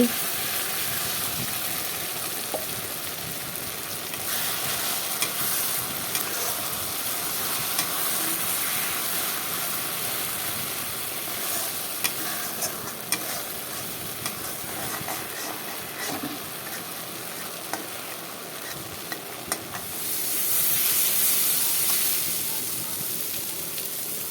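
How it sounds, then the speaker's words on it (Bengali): Onion and ground spices fry with a constant loud sizzle in a pan for a fish and potato curry, with ongoing stirring and occasional utensil taps, swelling slightly near the end. "দেখো মশলাগুলো ঢেলে দিয়েছি"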